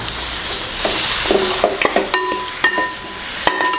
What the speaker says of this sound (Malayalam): ഈ എല്ല് നമ്മൾ ഇതിലേക്ക് ഇട്ട് കൊടുക്കുകയാണേ